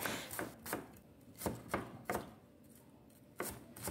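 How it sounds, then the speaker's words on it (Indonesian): A knife thinly slices shallots on a cutting board, giving about eight distinct sharp chops at an uneven pace, close and fairly quiet, with no speech. "Sisikan untuk bumbunya 6 siung bawang merah. Ini cukup diiris tipis seperti ini saja ya."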